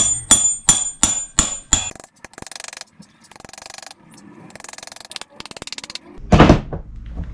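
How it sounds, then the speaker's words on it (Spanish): A thin heel is hammered off a women's boot, with five sharp, evenly spaced metal-on-heel blows up close, then lighter taps and scraping, and one heavy thud near the end. "Agarro con los pies y voy martillando."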